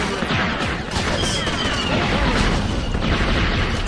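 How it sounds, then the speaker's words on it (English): Explosions on a Polis Massa medical facility mod map in Star Wars Battlefront, a dense, loud, continuous barrage of blasts and rattling gunfire with crashing debris. "the explosion effects are freaking glorious"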